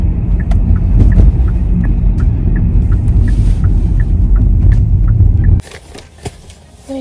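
A car drives slowly through school zone traffic, its engine a loud, steady low rumble with a faint rhythmic ticking, until the noise drops abruptly near the end, leaving quieter surroundings.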